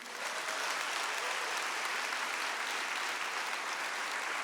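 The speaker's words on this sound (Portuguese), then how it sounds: "Pode aplaudir." A church congregation applauding, a dense, steady wash of many hands clapping at even loudness throughout, with no voices standing out.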